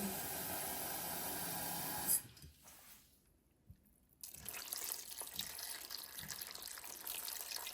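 A steady stream of water pours into a large pot of peeled pumpkin, cuts off abruptly into near quiet, then resumes with softer splashing and running water.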